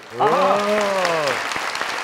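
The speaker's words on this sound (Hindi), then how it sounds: "तालियां भाई।" Studio audience applause on a Pakistani comedy talk show, a steady wash of clapping that rises suddenly and carries on, with a voice calling out over it near the start.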